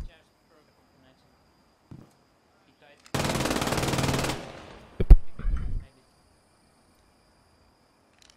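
A loud sustained burst of machine-gun fire, about a second long, in a WWII-style battle video game, set against near silence, followed by a sharp single crack and a short rumbling thud.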